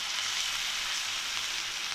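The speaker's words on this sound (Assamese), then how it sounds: "লৰাই ভাজি থাকিম।" Mustard paste sizzles steadily in hot oil as it is stirred for a koi fish curry, a continuous close crackling hiss with faint scraping underneath.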